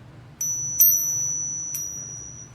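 Silver Buffalo bullion coin pinged to test authenticity, giving a few clear, high ringing tones, one strong strike with a long sustained ring plus lighter taps, quiet background.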